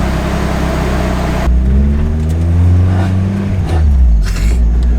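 A car engine with a faulty exhaust, a loud, rough low drone that shifts pitch as the revs rise and fall, close by and alone.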